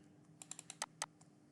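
Light keystrokes on a computer keyboard during a copy-and-paste shortcut, a quick run of about eight soft clicks with two slightly sharper taps, close and quiet against a faint room hum.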